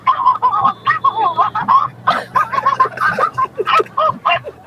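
A voice imitates a chicken clucking in a mock angry scolding, a run of quick nasal squawks and clucks rising and falling in bursts, loud and close over a phone line.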